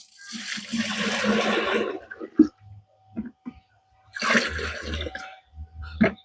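Water gushes into a container in two separate bursts, each lasting a couple of seconds, with short knocks and drips in between.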